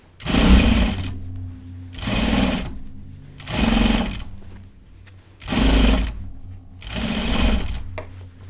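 A home sewing machine stitches buttons onto a garment in five loud, steady bursts of about a second each, separated by short quiet pauses, with a low motor hum running throughout.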